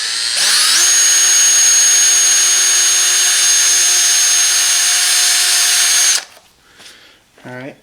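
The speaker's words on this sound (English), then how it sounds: "try to hit dead center of where you're going to drill your big hole." A power drill whines loudly and steadily for about six seconds while drilling a center hole in an LS intake, then stops abruptly, followed by brief faint rustling and a short voice.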